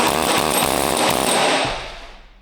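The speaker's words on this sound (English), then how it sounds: "So, we might try and deploy the air chisel for this." A pneumatic air chisel hammers at a bearing race on a Cupra R, a loud, continuous rattling buzz close by that fades away over the final second.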